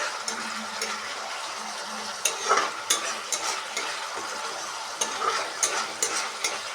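A freshly ground spice paste, made without powdered spices, is sautéed for a duck egg curry. There is a continuous soft sizzle with repeated sharp scraping clicks of a spatula against the pan.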